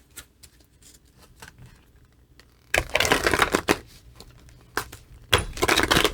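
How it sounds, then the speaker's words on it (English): Big oversized deck of cards being shuffled, soft riffling and handling at first, then two louder bursts of rapid card flutter close by, with no talk. "That was a horrible shuffle, and I'm going to try this again."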